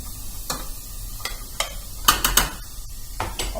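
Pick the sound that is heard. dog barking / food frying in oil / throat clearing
food frying in oil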